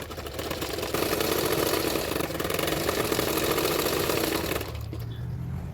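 A sewing machine stitching a folded blouse sleeve, a steady, loud, close mechanical whir running continuously for several seconds before easing to a lower hum near the end, with no talk.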